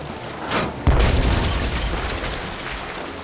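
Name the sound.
cannons firing in the video game Tales of Monkey Island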